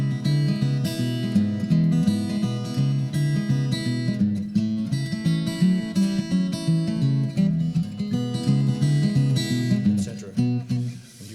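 A solo guitar plays a steady, rhythmic boogie bass line in E, with low repeating notes driving continuously under lighter upper notes, loud and close throughout without any talking.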